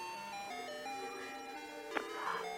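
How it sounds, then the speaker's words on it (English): An ice cream truck driving around a neighborhood plays its tinkling music-box jingle, a steady looping melody of bright tones heard clearly for a few seconds with a faint click partway through. "I drive the ice cream truck around the neighborhood"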